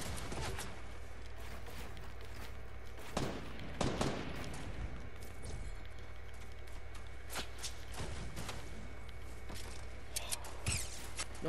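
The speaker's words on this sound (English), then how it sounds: "Someone's shooting from soccer field." Gunfire in a Fortnite 50 v 50 match: scattered distant shots crack out in short bursts over a steady background hum, with a few louder volleys and faint footstep-like thuds between them.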